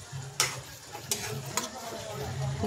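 Masala for a whole chicken roast with yogurt being stirred and turned in a pan, with soft frying sizzle and three sharp scraping strokes of the spoon against the pan at intervals.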